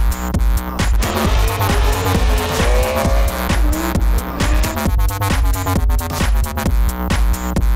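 Drift car at a nighttime event squealing its tires after an e-brake entry, loud wavering screeches over a revving engine, up close and continuous with bursts of throttle.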